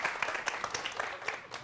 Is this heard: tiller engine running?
no